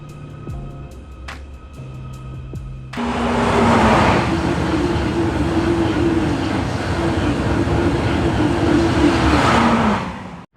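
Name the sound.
Merseyrail Class 777 commuter train running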